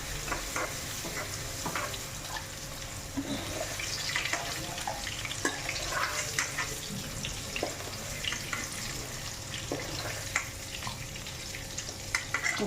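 Paneer frying in a hot pan in a home kitchen, a soft continuous sizzle with light stirring clatter and faint watery hiss.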